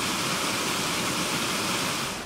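The River Frome rushes steadily near Chalford's railway viaduct, a dense, constant broadband roar of flowing water with no pauses.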